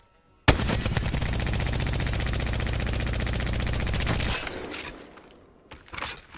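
Rapid automatic fire from a gun in a shooter game during aim practice, one loud unbroken burst lasting about four seconds, then a few faint clicks and thumps afterward.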